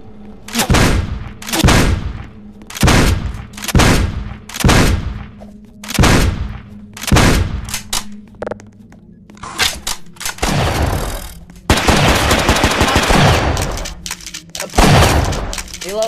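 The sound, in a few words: gunfire in video game Madness Combat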